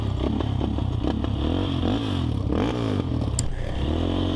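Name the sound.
LTZ 400 bike engine running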